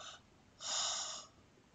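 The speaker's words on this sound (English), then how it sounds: "Why do I keep yawning?" A person yawns once, a short breathy sound swelling and fading over about half a second, close and fairly quiet, with no talk over it.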